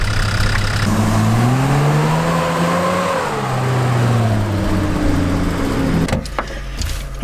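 A 4x4's engine revs and strains steadily, pitch rising and falling as it climbs a hill, ending with some clattering knocks.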